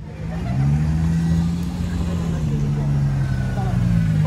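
A Nissan car engine at a motor festival, a steady low drone with a slowly wavering pitch, close and fairly loud, while someone talks over it.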